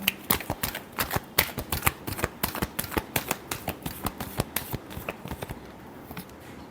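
A deck of tarot cards is given a final shuffle close by, a rapid run of crisp, uneven flicks and riffles that gradually thins out toward the end.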